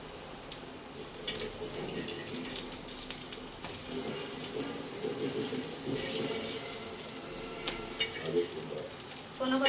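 Colocasia leaf rolls (alu vadi) fry in a little oil on a flat pan, giving a steady close sizzle and crackle throughout with occasional brief pops and soft utensil scrapes.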